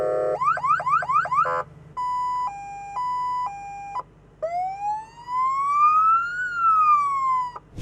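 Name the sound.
siren and horn sounds of armored Mercedes-AMG G63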